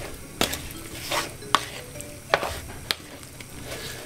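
Ground beef for Brazilian beef stroganoff is stirred to work in salt and pepper, giving soft scraping and a handful of sharp utensil clacks against the pan at irregular intervals, fairly close and quiet, with no talking.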